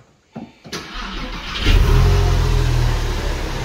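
A cheap Porsche under repair starts up after a brief silence, then its engine revs loudly and holds a deep, steady roar as it pulls away close by.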